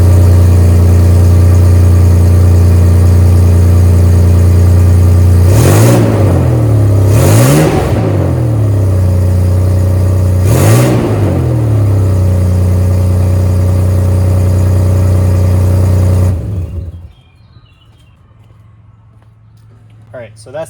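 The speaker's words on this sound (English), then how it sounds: "that's the sound of the exhaust just coming out of the tailpipe" 1997 Toyota 4Runner idling with the catalytic converter deleted and exhaust routed through the muffler, a steady deep drone broken by three quick revs, then the engine shuts off into quiet, close and alone.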